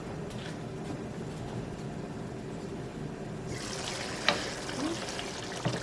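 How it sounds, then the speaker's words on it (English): Tomato pasta sauce fries in a pan with a soft, continuous sizzle and bubbling, growing livelier partway through, with a couple of light clinks near the end. "It's continuing to fry and dry out some of that extra water that's there"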